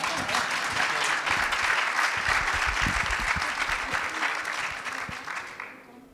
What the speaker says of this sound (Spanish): Vale aplaudir, vale aplaudir.